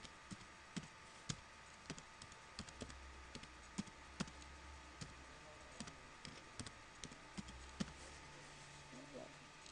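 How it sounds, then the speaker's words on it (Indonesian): Scattered clicks of computer keyboard typing as network commands are entered into a Cisco IOS router terminal, sharp separate key taps under a low steady hum while someone talks. "untuk bisa mundur dari privilege exit, saya bisa ketikkan disable"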